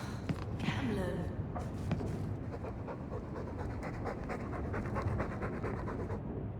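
A dog in the Dragon Age 2 video game pants rapidly and continuously, a close, loud rhythmic huffing that fills the whole stretch.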